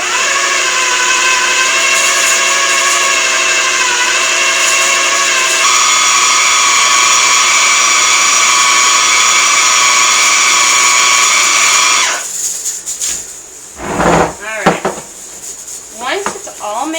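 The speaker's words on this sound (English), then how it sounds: "I'm going to put my lid on, and I'm going to blend this up until it's very evenly coated" A blender runs a thick black bean brownie batter with a loud, steady motor whine that shifts pitch partway through, then cuts off after about twelve seconds, leaving clattering and handling noises.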